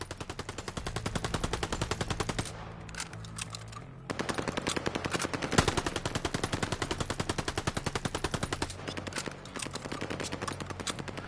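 Rapid machine-gun fire from a shooter video game, long rattling bursts of evenly spaced shots with a brief pause midway, steady and fairly close, with no talking.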